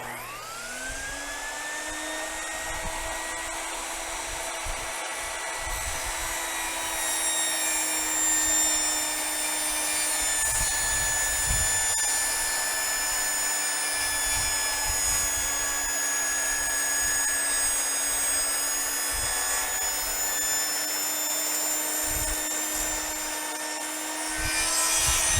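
A loud power saw cuts wood outdoors to build a DIY bread slicer: a sustained high whine holds steady under a rough, grinding rasp of the blade through the board, lasting the whole stretch.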